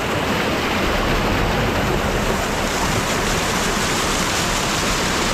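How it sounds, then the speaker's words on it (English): A water wheel turns in a winter stream to generate electricity at a snowy campsite, heard as a loud, steady rush of flowing water that fills the whole clip without breaks. "The water wheel is still working."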